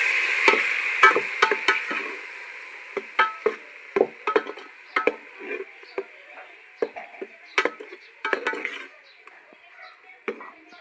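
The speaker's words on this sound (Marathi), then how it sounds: "त्यानंतर मी टोमॅटोची पेस्ट घालत आहे" Tomato paste going into golden fried onion for a rajma masala curry, with a utensil clattering and scraping against the pan in irregular bursts over a faint steady sizzle.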